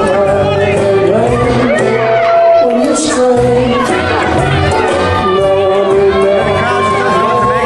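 Wrestling arena crowd during a battle royal, a loud continuous wash of overlapping voices, shouts and chatter with some higher cries rising and falling throughout.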